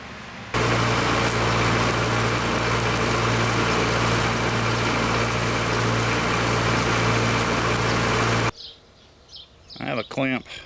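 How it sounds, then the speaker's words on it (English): Plasma cutter on a CNC table slicing steel end caps for porch headers, a loud continuous roaring hiss with steady hum held for about eight seconds, then cutting off abruptly to quieter shop sounds. "Next I went to the plasma table and cut out caps for the end of these headers."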